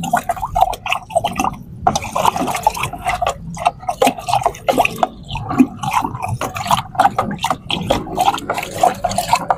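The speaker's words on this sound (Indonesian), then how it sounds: "kita langsung aduk" MKP fertilizer is stirred into about 5 liters of water, giving loud, close, uneven sloshing and dripping splashes in a steady irregular rhythm throughout.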